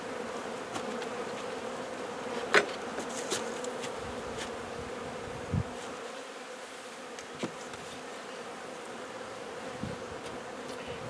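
Honey bees buzz over a hive frame holding an unmarked queen, eggs, brood and drones, a dense close steady hum with a few louder individual bees passing near, no talking.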